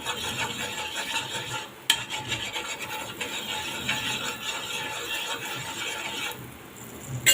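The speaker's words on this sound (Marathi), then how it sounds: "पॅनवर मी थोडंसं बटर अजून टाकणार आहे मध्येच असं पसरवून घेऊया" Butter being spread across a hot pan while making a sandwich, heard as a continuous close scraping, rubbing texture with a couple of brief breaks and faint sizzle, no voices.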